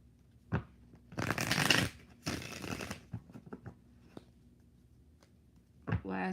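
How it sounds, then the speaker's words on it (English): Tarot cards being shuffled by hand in two dense bursts of riffling, each lasting about a second, with a few scattered card clicks and taps around them, close and fairly loud. "That didn't want to shuffle."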